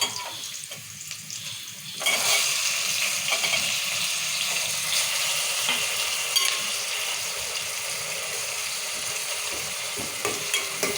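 Tomato added to onions and chillies sizzling in a pan for a gokarakaya curry; a quiet start gives way to a sudden burst of steady, close frying hiss that carries on to the end.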